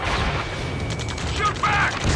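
Gunfire in the Ace Combat 7 video game during a rescue firefight, a steady dense mechanical rattle of shots with a louder burst near the end, amid continuous battle noise.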